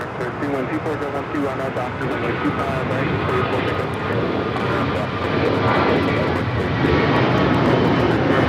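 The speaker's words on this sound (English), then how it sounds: "This is American Airlines 1024 taking off to Orlando on the A321." An American Airlines Airbus A321 takes off at LAX with a loud, sustained engine roar that swells slightly toward the end while people talk over it.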